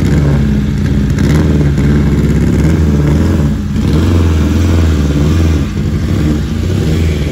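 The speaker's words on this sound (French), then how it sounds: "Plein de voitures, trop stylées qui arrivent." Luxury cars driving on snow at The ICE St Moritz, with a loud, continuous engine drone and revving close by, with a brief dip midway as one passes.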